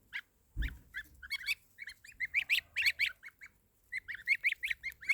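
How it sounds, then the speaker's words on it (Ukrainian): Geese and small goslings on grass give repeated high, chirpy peeping calls in quick bursts, near and clear, with a brief low thump early on and pauses between clusters of calls. "Бачиш, що є три гусині, а то все гусачки."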